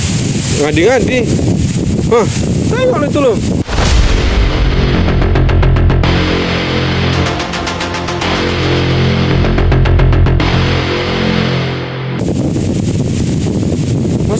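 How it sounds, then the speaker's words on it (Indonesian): Strong wind roars and buffets the microphone throughout, loud and close, with a steady low rumble and gusty swells; a voice is heard briefly near the start. "Angin kencang kali loh, guys."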